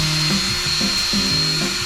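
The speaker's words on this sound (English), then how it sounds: "Before driving in the screws, I'll drill pilot holes to prevent the wood from splitting." Small drill boring pilot holes into wood for a simple wooden stool, a whining motor pitch rising and falling in several short bursts as the bit bites and eases, close and fairly loud.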